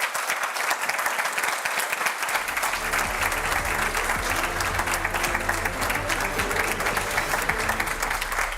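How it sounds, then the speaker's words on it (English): Sustained audience applause at the close of a live EU enlargement summit broadcast, dense steady clapping rising after a quiet start and holding loud throughout, with faint crowd murmur and music underneath. "A round of applause."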